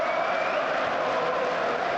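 A stadium crowd at Manchester United versus Newcastle United in the Carabao Cup applauds and roars steadily as a Newcastle midfielder is substituted off, a dense, unbroken wash of noise.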